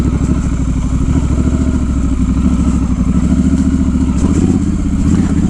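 Triumph Scrambler 1200 XE motorcycle ridden off-road with traction control and ABS off, a loud, close, throbbing engine with fast pulsing beats and a rough rattle, steady throughout.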